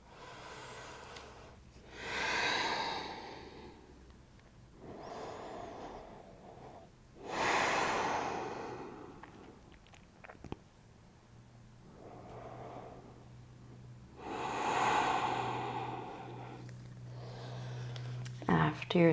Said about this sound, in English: 3 slow, deep breaths here